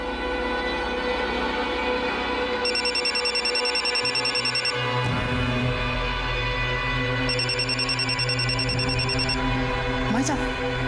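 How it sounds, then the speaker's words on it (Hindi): A mobile phone rings inside a busy home during a family puja, sounding as two electronic ringtone bursts of about two seconds each over steady household noise and a low hum, with people talking nearby. "भाभी का फोन बज रहा है।"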